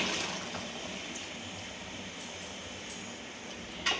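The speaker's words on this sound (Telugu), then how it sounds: "ఒక గ్లాస్ వాటర్ పోసుకోవాలి." A glass of water pours into a cooking pot in a soft, steady stream, a quiet continuous trickle and splash with a faint clink near the end.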